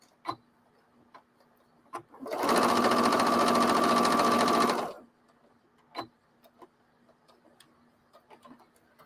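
A sewing machine stitches a hem in one loud, steady run of about three seconds, set between quiet stretches with faint taps and small clicks.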